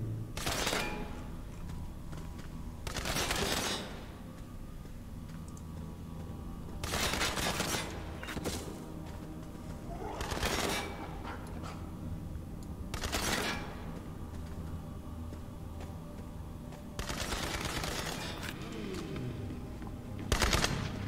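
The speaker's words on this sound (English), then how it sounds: "Oh, you're shooting at me." Bursts of rapid automatic gunfire in Borderlands 3, a series of loud volleys spaced a few seconds apart over a steady background of game ambience.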